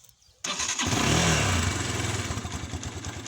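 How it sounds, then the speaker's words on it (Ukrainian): A 2019 Geon Pantera 200 motorcycle engine cold-starts, cranking and firing after a brief quiet moment, then settles into a steady, rapid idle close by. "Зараз вам покажу, як заводиться"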